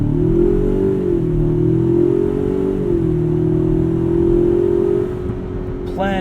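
A 2019 Ford Ranger Supercab with the 2.3-liter EcoBoost engine accelerates hard from inside the cab, a loud steady drone rising in pitch and easing off near the end.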